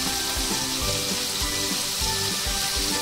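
Chopped ginger and turmeric with spices sizzle and fry in hot oil, giving a steady close crackle with soft rhythmic stirring scrapes throughout.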